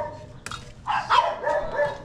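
Dogs bark a few times near a house gate in the Philippines, with short yips and one louder bark over faint background noise.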